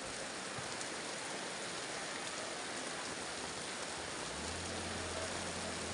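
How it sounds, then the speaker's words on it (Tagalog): Heavy rain pours down at Bucana, a dense, steady hiss that holds evenly throughout with no voices. "Bumigay na talaga ang ulan."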